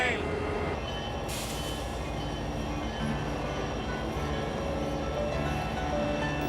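The CSX Santa train at Christmas rolls past in a steady, loud rumble of wheels and railcars, with a brief brighter screech of metal partway through and no clear voices.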